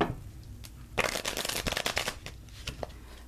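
Tarot cards are shuffled by hand in a close, crisp burst of rapid riffling flicks, followed by a few lighter taps and slides as the deck settles.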